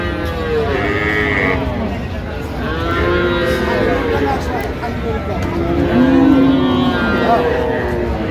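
Cows and calves low repeatedly amid a busy outdoor crowd at a cattle market in Raniganj, Dinajpur, several moos rising over steady chatter and general market din.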